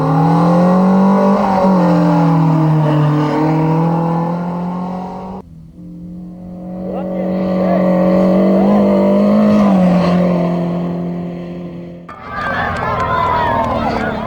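A Peugeot 504 rally car runs a special stage, its engine loud and close, revving up and down through gear changes with a sharp dip midway, while a voice talks over it.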